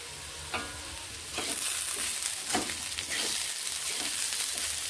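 Potatoes and onions fry together in a pan for a mixed vegetable fry, a steady close sizzle that swells partway through, with a few soft stirring scrapes and no voices.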